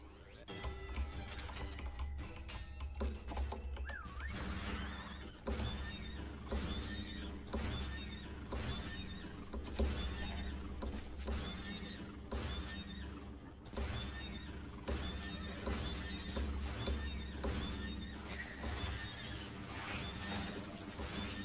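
A horse neighs in the Western video game Far Far West, its whinny mixed into a steady backdrop of game music and effects, with no talking.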